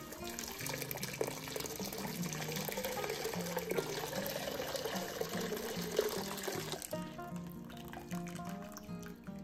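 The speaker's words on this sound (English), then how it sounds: "we need to put hot water in there up to an inch over the tops." Hot water pours steadily into a canner over jars of strawberry jam, a continuous close splashing and filling that stops abruptly near the end, with music playing underneath.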